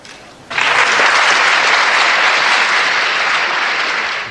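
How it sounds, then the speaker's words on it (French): Audience at a lecture bursts into applause, a dense, loud, sustained clatter of many hands clapping that begins abruptly after a quiet moment and holds steady before tapering slightly. "c'est dans l'horizon de cette constatation applaudie comme vous l'entendez"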